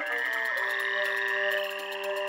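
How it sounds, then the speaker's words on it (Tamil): Frogs croak together in a loud, steady chorus of overlapping calls that runs without a break from start to finish, with no voices heard over it. "எங்க பார்த்தாலும் தவளைங்க."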